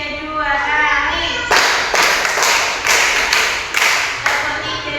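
An elementary school class claps together in a counted pattern, two quick groups of three crisp, close claps, following a woman's spoken instruction.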